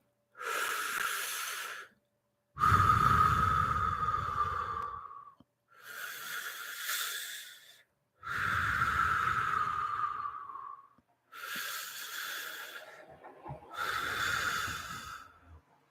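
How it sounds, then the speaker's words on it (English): Three slow, deep breaths, each a long inhale followed by a drawn-out exhale, close and clear with near silence between them. "I'd like you to take 3 deep breaths"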